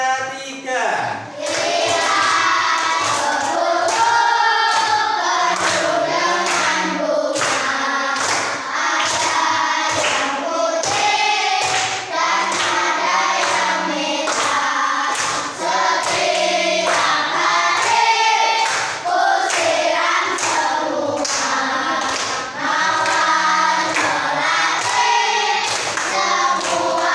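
A school class sings a song together while clapping their hands in a steady, regular beat, the voices and claps loud and continuous throughout.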